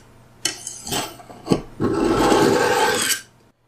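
A knife drawn through the polishing slot of an X1 Pro knife sharpener, heard as a few short scraping rasps followed by one longer, steady grinding pull, close and moderately loud with no talking.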